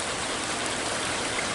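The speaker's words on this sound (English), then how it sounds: "You can see we got ourselves a very rainy night." Heavy rain falling at night, heard from under an awning: a dense, continuous hiss of drops that stays loud and even with no talking.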